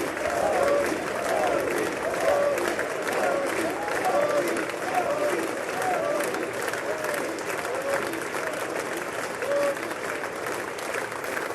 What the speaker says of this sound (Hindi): बार बार वहां पे क्लैपिंग चल रही है